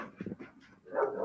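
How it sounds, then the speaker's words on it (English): A dog barks at cows, giving a short burst of several quick barks followed by a louder, rougher bark, heard at moderate distance with no talking. "The dog has to bark at the cows."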